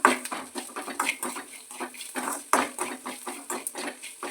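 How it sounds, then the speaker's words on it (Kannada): Green beans frying with salt in a pan for a simple palya, a spatula stirring and scraping against the metal in quick, irregular clatters. The sounds are close and moderately loud, with no voices. "ನೀಟಾಗಿ ಫ್ರೈ ಮಾಡ್ಕೊಬೇಕು ನೋಡಿ."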